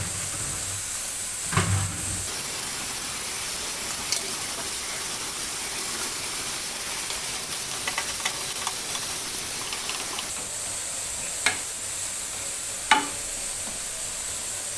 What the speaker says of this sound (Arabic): صافي كنخليها هكايا حتى كتشحر ليا مزيان